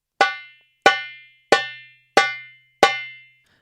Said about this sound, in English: the sound we are aiming to create is the sound of one phalanx from each of these 2 fingers landing on the drum.